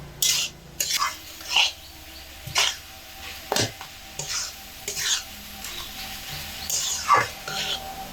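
Beetroot curry frying in oil while being stirred often, a vegetarian dish, with repeated scraping strokes of a spatula against the pan every second or so over a faint sizzle.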